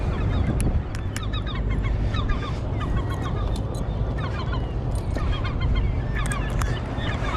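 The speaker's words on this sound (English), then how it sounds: "something around here these birds don't like me being up here" Seagulls squawk and call repeatedly on a rooftop near an air-conditioning unit, harsh overlapping cries close by over a constant loud mechanical drone.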